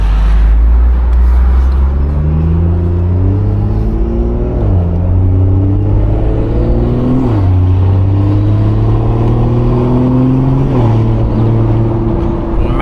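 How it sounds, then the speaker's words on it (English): A BMW 440i engine and exhaust rev up through rising gears, the drone climbing in pitch and dropping at each shift, loud and close with a steady rumble. "immediately you can hear how insane this exhaust sounds"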